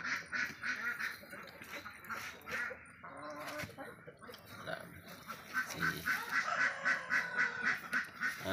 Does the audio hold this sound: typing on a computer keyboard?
no